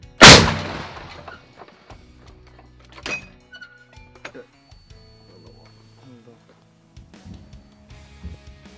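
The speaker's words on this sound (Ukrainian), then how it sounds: "Постріл!" A single loud, sharp artillery gun blast opens at a frontline firing position, followed by quieter clanks, thuds and scattered voices of the gun crew nearby.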